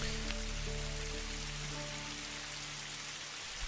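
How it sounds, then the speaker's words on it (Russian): A heavy rain downpour on a hilltop along the Great Baikal Trail near Listvyanka, a dense, steady roar of rain with a low hum underneath, constant and unbroken, with no talking. "На вершине нас настигает сильнейший ливень."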